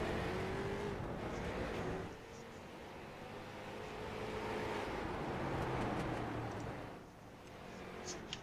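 Race cars circling an oval track at Oxford during a warm-up session, a steady distant engine drone that swells and fades as the pack passes, with no talking.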